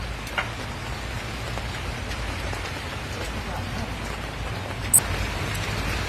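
Heavy rain pours steadily onto surfaces during a dark downpour, a dense, unbroken hiss close by, with a voice speaking faintly beneath and one brief sharp click near the end.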